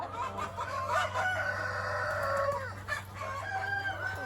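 Hens cluck steadily while a rooster crows, all over a constant low hum, the birds fairly close, on Polyface Farm in winter.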